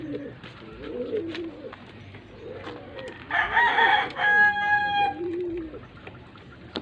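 Pigeons coo softly and repeatedly nearby while a rooster crows loudly partway through, with faint bird chatter in the background, at a pigeon loft.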